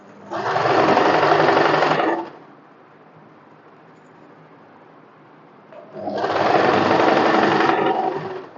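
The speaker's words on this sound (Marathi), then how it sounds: "इलॅस्टिक लावताना पहिला एक स्टिच घालून घ्यायची इथे बघा नीट, आणि पूर्ण इलॅस्टिक अशी ओढून लावायची आहे" A sewing machine stitches elastic onto a cotton summer one-piece dress, running in two loud, steady bursts of about two seconds each separated by a quiet pause, with no talking.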